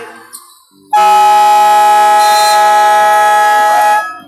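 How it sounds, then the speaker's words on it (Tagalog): A loud, sustained basketball game buzzer ending the first quarter blares for about three seconds and then cuts off, after a brief faint sound before it. "Buzzer na lang maririnig."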